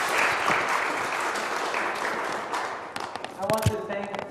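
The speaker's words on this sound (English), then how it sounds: "So give her a round of applause." Audience at a small-business talk in Wheeling, West Virginia gives a round of applause, steady clapping that tapers off as a few louder knocks and a voice come through near the end.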